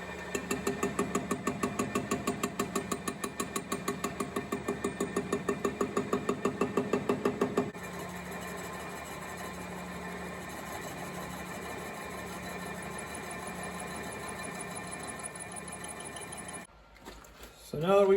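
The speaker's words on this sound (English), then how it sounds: "hopefully we can get this lathe to work" A homemade lathe spinning up and cutting: a fast rhythmic mechanical chatter that gives way to a steadier whirring hum, fairly faint and continuous, then stops abruptly near the end.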